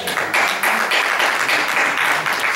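A church congregation applauds in a steady, dense wash of many hands clapping, fairly loud and close, swelling and easing in a few waves with no voices over it.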